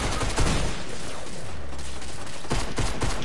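AK rifle bursts in a video game, sharp rapid shots in clusters at the start and near the end, loud and close, with a quieter stretch and a low hum between.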